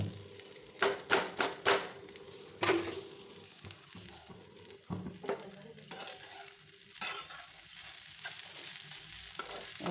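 Flattened rice poha with boiled vegetables and lemon juice stirred in a pan, a spoon scraping and clanking in irregular strokes over a soft sizzle, quiet and close with no voices.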